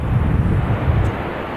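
A Jet2 Boeing 737 rolls out on runway 23 right at Manchester Airport after a crosswind landing. A loud, steady, broadband roar is heard, buffeted by wind noise.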